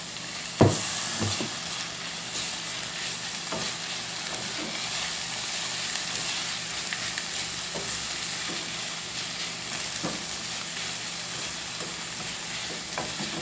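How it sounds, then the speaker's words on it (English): Saltfish being stirred and tossed with vegetables in a pan on a switched-off stove, a steady soft sizzle with scraping and clicking from the spoon, one sharper knock near the start, no voices. "I'll just throw in the saltfish and just mix it up with the other vegetables."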